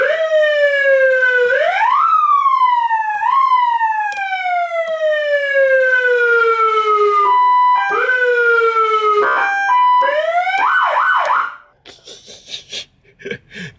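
A loud electronic siren on a 5 ton military truck sweeps up and wails back down several times, then switches to a fast yelp before cutting off. Only faint noises follow.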